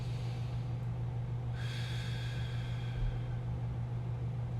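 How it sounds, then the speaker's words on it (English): A single deep inhale during a chest mobility stretching exercise, a breathy rush rising partway through and sustaining over a constant low background hum, with no talking. "Deep breath in."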